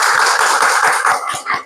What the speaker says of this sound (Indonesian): Beri tepuk tangan yang meriah teman-teman